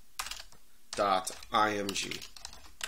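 Computer keyboard keys click as commands are typed, with light taps at the start and end while a person talks in between.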